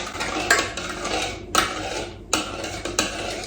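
A spoon scrapes and knocks against a pot of cocoa on the stove, heated over slightly above medium flame, making repeated clinks and rasping strokes with a few sharper taps, close and fairly loud with no voices.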